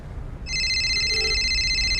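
A phone rings with a steady electronic tone starting about halfway through, loud and continuous after a brief quiet lead-in with low background hum.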